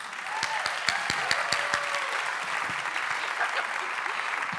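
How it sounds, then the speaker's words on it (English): An audience at an art prize gala and awards evening on Salt Spring applauds an award presenter, with steady, close clapping that holds at an even level throughout. "please give her a round of applause"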